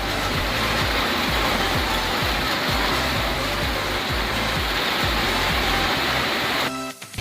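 Heavy rain pours down outdoors where a motorbike is parked, a dense, constant hiss and roar that cuts off abruptly at the end.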